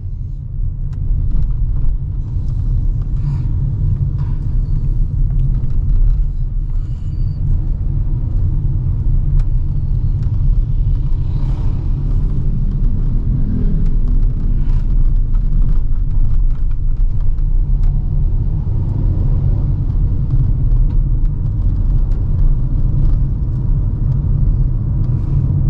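A lifted crossover with raised ride height drives along a narrow road, giving a steady, loud low rumble of engine and road noise with no talk over it.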